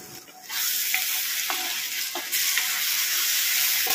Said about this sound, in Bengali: এই বাটাটা ভালো মতো কষিয়ে নিচ্ছি, কাঁচা গন্ধটা যাতে চলে যায়।